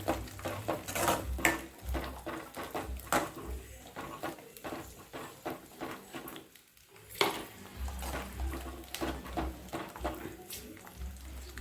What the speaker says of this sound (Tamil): நல்லா கொஞ்சம் வதங்கிட்டுங்க எண்ணெயில்.